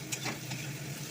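Egg and softened onions with salt are stirred in a frying pan, making a quiet, steady sizzle with a few soft scraping strokes from the spatula.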